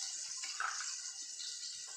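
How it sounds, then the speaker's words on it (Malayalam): Water poured into a pot of Kerala mackerel curry, a soft continuous splashing trickle heard faintly and close for a couple of seconds. "ആവശ്യത്തിനുള്ള വെള്ളവും ചേർത്ത് നമുക്ക് ഇതിലേക്ക് വെള്ളം ഒഴിച്ച് കൊടുക്കാം"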